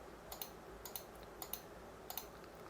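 A computer mouse clicks while lines are drawn in ZWCAD: faint, crisp clicks arriving in quick pairs, four sets in a steady rhythm against a quiet room.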